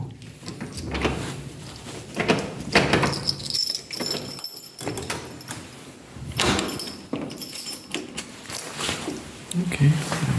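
A hotel room door in Finland is unlocked and opened, with several clicks, knocks and handle rattles spread across the clip, close by, while someone talks over it.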